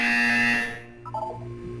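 A flat electronic buzzer from the Portal 2 test chambers sounds loud and steady for about three quarters of a second, then stops. A quieter low hum and a few soft tones follow.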